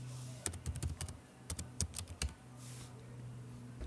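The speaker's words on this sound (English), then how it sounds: "Or you can click Command and Space and type Bootcamp Assistant in Spotlight search." Quick bursts of keystrokes on a Mac computer keyboard in two short runs, close and clear, separated by a brief pause with quiet room tone.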